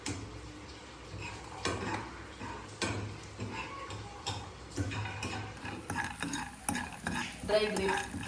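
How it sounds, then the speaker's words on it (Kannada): Chopped almonds and pistachios frying in a pan, heard as quiet crackling with repeated scraping and tapping of a spoon against the cookware, close by. "ಕಟ್ ಮಾಡಿದ ಬಾದಾಮ್, ಸ್ವಲ್ಪ ಪಿಸ್ತಾ ಫ್ರೈ ಮಾಡ್ತಾರೆ."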